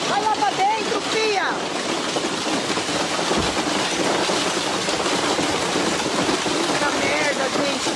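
Massive hailstorm in Brazil with hailstones pouring down, a dense, loud, unbroken clatter and roar, with a few faint voice-like squeals near the start.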